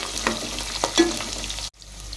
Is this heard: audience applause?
no